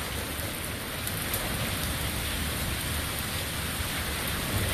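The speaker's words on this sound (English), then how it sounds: "There's some crack-a-lack and thunder going on here." Thunderstorm in Austin: dense, even rain hisses steadily throughout with a low rumble of thunder underneath, continuous and without pauses or voices.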